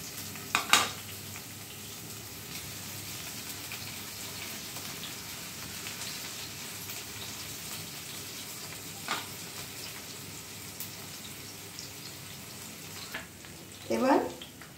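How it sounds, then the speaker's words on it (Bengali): Chopped onion and spring onion whites fry and get stirred in a pan, a steady soft sizzle with a few louder scraping clatters of the utensil near the start and end. "পেঁয়াজটা একটু নাড়াচাড়া করে নিয়ে এর মধ্যে দিয়ে দিচ্ছি স্প্রিং অনিয়নের সাদা অংশটা যে কাটা ছিল সেইগুলো"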